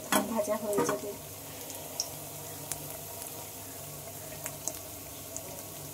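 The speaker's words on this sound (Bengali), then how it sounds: "ঠিক একইভাবে উল্টে পাল্টে মুচমুচে করে ভেজে নেব" Banana stem pakoras deep frying in hot oil, with a loud crackling burst at the start as they are turned, then settling into a steady soft sizzle broken by occasional faint pops.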